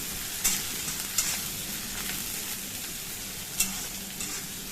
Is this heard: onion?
yes